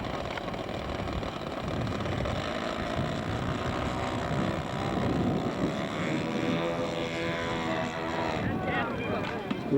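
A Russian twin-engine scale model airplane flies a test flight at a scale aircraft contest, its engines a steady broadband drone that rises and falls slightly as it passes, with people talking over it throughout.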